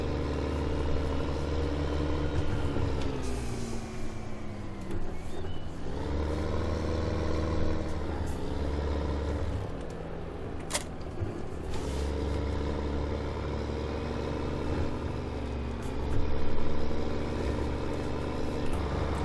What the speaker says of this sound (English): And we'll put this tractor on the Marshall trailer.